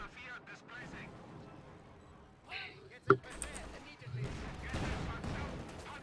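Artillery fire in the World War II strategy game Company of Heroes 2, set in the Hurtgen Forest: one sharp, loud blast midway and a rumbling swell of distant shelling after it, with voices talking over the battle.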